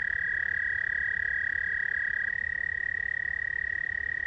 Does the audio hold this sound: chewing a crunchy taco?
no